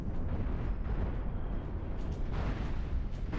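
A spaceship in Cosmoteer bursting apart after its cannon is destroyed, a dense, rumbling explosion roar that stays loud throughout, with crackling bursts toward the end.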